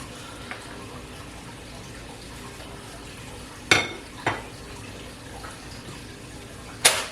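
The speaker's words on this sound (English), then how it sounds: "We're just gonna blanch this, and then we're gonna drain it over the sink." Water running and splashing in a kitchen sink as blanched egg noodles are drained, a steady faint wash broken by a few sharp clanks of a pot or strainer.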